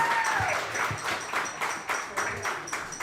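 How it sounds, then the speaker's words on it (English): Sparse, distinct handclaps for a high school boys' lacrosse team, a small group clapping in uneven bursts that soften and fade, with a brief electronic tone at the start. "Can we have a round of applause for the team"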